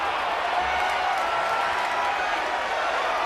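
Arena crowd noise from the WWE 2K25 wrestling video game, a steady, dense wash of cheering and murmuring with no breaks. It holds at an even level throughout, with no single voices standing out.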